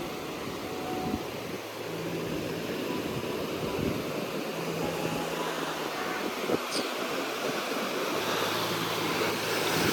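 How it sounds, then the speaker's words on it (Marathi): Sea waves break steadily on a Konkan coast shore, a continuous loud roar of surf mixed with wind buffeting the microphone across the whole stretch. "मगाची कडक आली. मगाची लाट"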